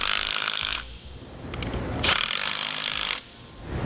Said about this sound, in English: Then tighten those down using a 9/16 socket.